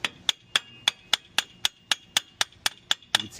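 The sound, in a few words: hammer striking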